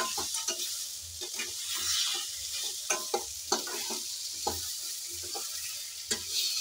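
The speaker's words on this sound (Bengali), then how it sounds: "আমি সামান্য 5 থেকে 6 মিনিট এইভাবে একটু নাড়াচাড়া করে নেব।" Spices fry for dal in a pan with a constant hiss, while a utensil scrapes and taps the pan in repeated, uneven stirring strokes up close. There is no talk.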